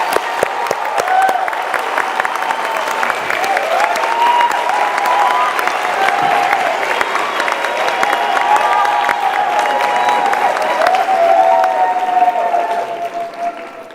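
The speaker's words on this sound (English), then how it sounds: "Please acknowledge our diplomats with a hand of applause, a round of applause." A graduation ceremony audience for the Faculty of Humanities gives a sustained round of applause, loud and continuous, with some cheering and brief voices mixed in before it fades at the end.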